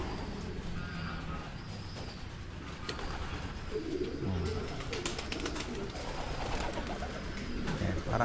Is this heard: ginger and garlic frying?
no